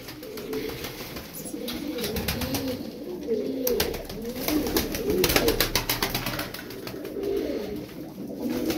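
Pigeons, a loft of about twelve tumbler-type play pigeons, coo in low, throaty repeated phrases, close and steady throughout, with faint rustling and small clicks in the background and no clear talk.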